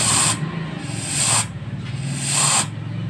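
WD-40 lubricant sprayed onto jackhammer grease in short, loud hissing bursts, three sprays with pauses between them, close by and with no talking.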